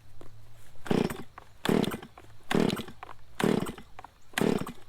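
A mower fitted with a brush blade cuts through brush in five loud, close bursts, each surge of engine and blade roaring for about half a second before easing back to a lower drone.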